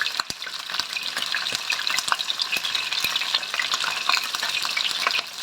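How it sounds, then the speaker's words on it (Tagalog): Fish fries in hot oil with a dense crackling sizzle and scattered sharp pops, continuous and close throughout. "Prito na natin siya."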